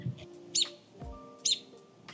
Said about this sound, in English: listen to this bird.